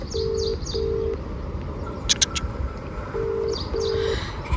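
A phone call rings through to a forwarding message: short repeated tones recur in paired beeps at the start and again near the end, with a brief burst in between, over steady background hiss.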